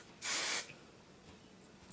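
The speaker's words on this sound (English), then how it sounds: "I'm only going to spray about mid-shaft down and just the smallest amount" A single short burst of fine hair gloss mist sprayed onto hair from mid-shaft down, a soft, close hiss lasting about half a second, followed by quiet.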